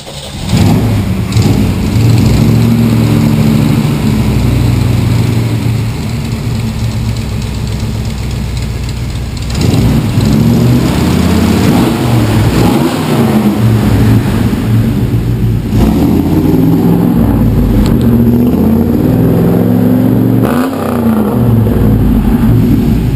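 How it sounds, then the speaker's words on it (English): A 1956 Chevrolet Bel Air engine runs steadily at a loud idle, with a few brief revs and shifts in tone, close by with no voices. "show you the engine running so you could finally hear your new car"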